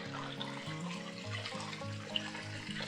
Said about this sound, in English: You can see how fast that water's running. You can hear it coming through that pipe.